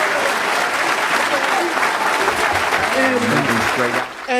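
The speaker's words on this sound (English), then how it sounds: "let us give the Honorable Minister Louis Farrakhan another round of applause." A crowd gives a sustained round of applause for Minister Louis Farrakhan at a Nation of Islam gathering, dense and loud throughout, with a voice starting to speak under the clapping as it fades near the end.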